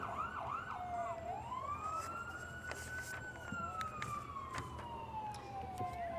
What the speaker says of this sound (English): this is the 1954 Jeep Commando Wildland fire engine